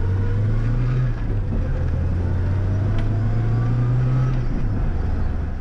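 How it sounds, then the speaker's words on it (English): A cold Nissan Sunny truck (Datsun 1200) engine, newly fitted with electronic ignition, idles steadily with a deep, even rumble close by and a slight swell in pitch partway through. "Well, it starts better for a start. Straight up, you can see it. Idle's better."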